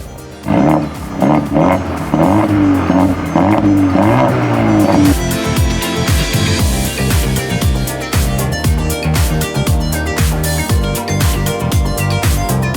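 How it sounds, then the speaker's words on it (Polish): Mercedes-AMG A 35 4MATIC engine and exhaust roar loudly through twin sport tailpipes, revving hard with rising and falling pitch sweeps as it accelerates and shifts, continuous and close. "dwie sportowe końcówki układu wydechowego, z których wydobywa się piękny dźwięk silnika"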